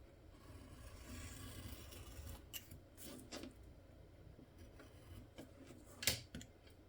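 Garden shears trimming plants in a courtyard: faint, scattered snips and rustling scrapes at irregular intervals, with one sharper cut near the end.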